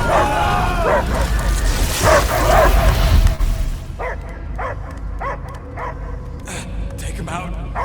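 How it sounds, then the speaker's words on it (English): In the Guardians of the Galaxy video game, a dog barks and whimpers in a series of short yips and bark bursts, mixed under game effects and character speech. "I hear only barking"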